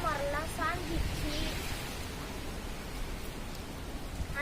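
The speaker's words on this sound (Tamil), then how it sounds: "காற்று ரொம்ப பலமாக அடிக்குது." Strong storm wind with heavy rain during a cyclone, a steady broadband roar of gusts and downpour running through the whole stretch, with a voice briefly audible at the start.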